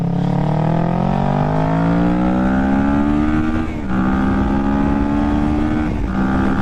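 A 2019-or-newer Kawasaki Ninja 650 parallel-twin motorcycle accelerating hard, its engine note climbing steadily through the revs, dipping briefly on a gear change and then pulling up again, loud and close.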